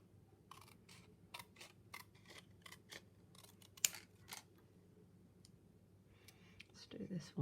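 Scissors trim paper for a stamping craft project with a run of quick, crisp snips, close and quiet, spaced irregularly over a faint background.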